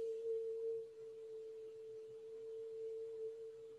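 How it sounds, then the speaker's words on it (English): Recorded voice singing a steady A440 tone, run through a low-pass filter that strips its overtones, leaving a smooth, sustained, pure-sounding hum that holds evenly and alone. "Now I'm going to put it through a low-pass filter, which lets through the frequencies less than A441, but dampens all the overtones."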